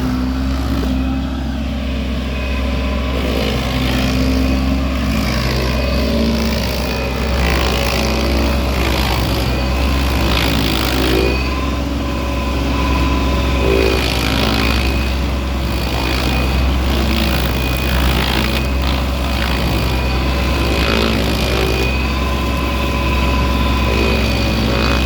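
A Vermeer SC 552 stump grinder with the BCS cutter wheel runs at a steady idle up close, its low engine drone and harmonic hum continuous and unchanging throughout.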